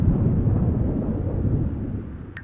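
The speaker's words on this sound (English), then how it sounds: "the thunderstorm, of course." Thunder rumbles through a storm in The Sims 4 video game: a steady, deep, loud roll that fades gradually, with a brief sharp click near the end.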